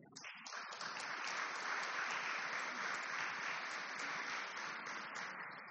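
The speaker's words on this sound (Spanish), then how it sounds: "No sé qué aplauden si todavía no hablar" A hall audience at a gathering on teaching practices in cultural spaces breaks into steady, fairly distant applause that holds evenly for several seconds without speech over it.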